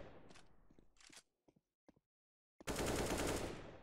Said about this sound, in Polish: Teraz gdzieś będę strzelał tam.